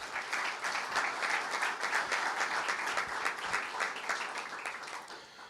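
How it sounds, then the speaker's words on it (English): A university audience applauds two regents in a steady, dense wash of clapping that holds at an even level, with no voices rising above it. "Let's give them a round of applause"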